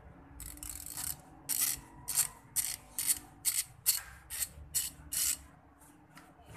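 Dry Yato YT-07298 ratchet before lubrication: about a dozen crisp, close mechanical clicks in an uneven rhythm, each a short rasping burst over a faint background.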